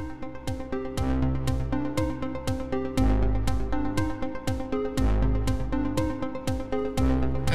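In VCV Rack, a drum sequencer pattern plays with 50% swing, its loud kicks, snares and hats repeating in a shuffled, lopsided groove over pitched synth tones, with no talk.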